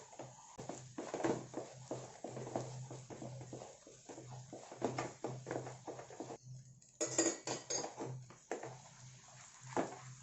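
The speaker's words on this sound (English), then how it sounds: "So keep mixing until the ghee comes out." A spoon scrapes and clinks against a pan while wheat halwa with ghee and cardamom is stirred, a run of quiet, irregular metallic taps and scrapes, faint and close with no talking.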